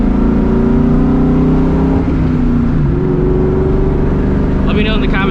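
Engine of a 2004 Mustang GT V8 droning loud and close inside the car, a steady low rumble with shifting pitch that dips briefly partway through, with no speech.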